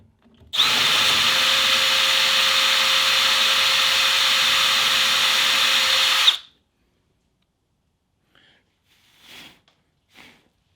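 A power drill drives a screw into the interior trim of a Datsun 240Z/260Z/280Z to mount a Skillard S30 mirror bracket, with one loud, steady whir lasting about six seconds, then quiet apart from a few faint clicks.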